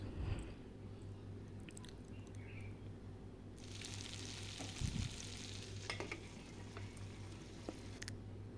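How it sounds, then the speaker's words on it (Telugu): Brinjals sizzle and fry steadily in a pan while being stirred and turned over, with a soft continuous hiss, occasional scraping clatter and a low hum underneath. "వంకాయలు ఒక సైడ్ ఫ్రై అయిపోయినాయండి ఇప్పుడు రెండో సైడ్ కూడా అలాగే టూ మినిట్స్ మగ్గనివ్వాలండి"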